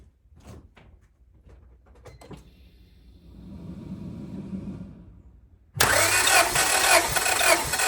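A warm Honda Civic engine on a compression test goes through a few thumps and clicks and a rising mechanical whir. It then cranks loud and fast on the starter for about two seconds, up close.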